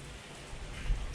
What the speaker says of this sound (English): it's just a steady rain like it is right now